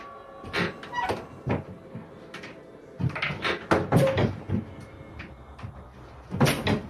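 A small door or cupboard is opened and shut repeatedly, giving a series of close wooden knocks, creaks and bumps in irregular bursts, with no speech over them.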